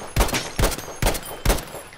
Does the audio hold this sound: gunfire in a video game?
yes